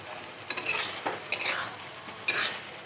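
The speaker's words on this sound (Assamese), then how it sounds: "ভালকৈ অকণ ভাজি ল'ম।" Spices and boiled potatoes frying and being stirred in a pan, a steady close sizzle broken by several sharp scraping stirs, with no talk.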